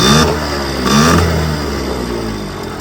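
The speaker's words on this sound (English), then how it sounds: "Again, on start, that's all it will rev. I'm giving it full throttle." A 1997 Yamaha PW50, a small two-stroke, shaft-driven dirt bike, revs hard at full throttle, a loud and close buzzing engine that climbs briefly and then holds a steady high drone.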